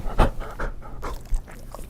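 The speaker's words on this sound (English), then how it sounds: "My dog wants to say hi." A pet dog panting close by in quick rhythmic breaths through the whole stretch, with a faint whimpery edge now and then and no speech over it.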